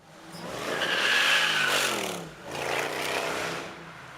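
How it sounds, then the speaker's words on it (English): Mercedes SL63 with a naturally aspirated engine, revving in two loud close rising surges, the second swelling just after the first fades. "press the throttle gently and the engine responds instantly"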